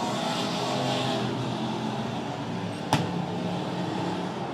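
Dirt-track race cars in the Silver Dollar Fair main event roar steadily in a broad, continuous engine drone, with a brief sharp click or knock standing out near the end.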